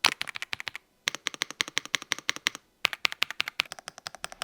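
A cheap Temu mechanical keyboard with brown switches is typed on in quick, even bursts of crisp clacks, close and isolated, with one short pause between runs.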